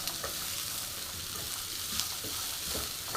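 Green beans sizzle steadily in hot oil with onion and spices, a dense, even crackle close to the pan with faint stirring scrapes and no voices.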